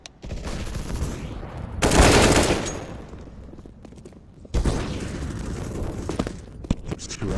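Counter-Strike flashbang grenade bursting, two sharp loud blasts with ringing noise amid gunfire and game action.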